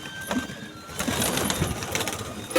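Fancy pigeons cooing in a loft, several soft low coos scattered through a steady rustling background, fairly close and unaccompanied by talk.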